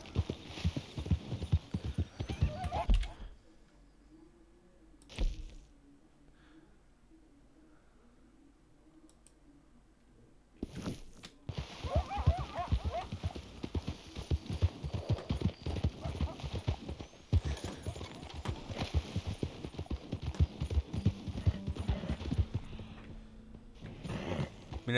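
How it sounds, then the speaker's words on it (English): Hooves clop in quick, even rhythm as a horse gallops in Red Dead Redemption 2, stopping for a quiet stretch and then picking up again, with someone talking in Spanish over the hoofbeats. "Subimos al caballo."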